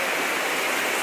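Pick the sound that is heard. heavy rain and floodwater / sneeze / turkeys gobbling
heavy rain and floodwater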